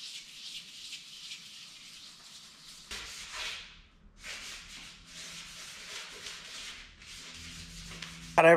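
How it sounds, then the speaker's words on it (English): Hissing, rubbing strokes from wet sanding a part of a 1984 Honda Goldwing GL1200 cafe racer build before painting, heard close and quiet in irregular passes with brief pauses. "Got everything wet sanded down."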